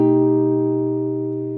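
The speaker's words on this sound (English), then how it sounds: "But we can choose to make it an altered 7 chord" A guitar sounds a single root-6 altered dominant seventh chord in a jazz or R&B style, already ringing and sustaining steadily while slowly fading, close and alone.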